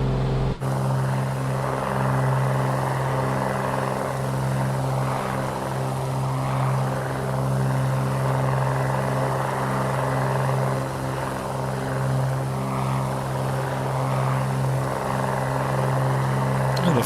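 A light aircraft's piston engine and propeller drone steadily and loud throughout a climb to cruising altitude, an unbroken hum with no talk over it.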